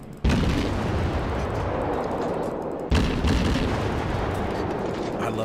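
Main battery naval guns of a tier 10 Gearing destroyer firing in World of Warships, two loud booming salvos a few seconds apart, each trailing into a long rumbling decay.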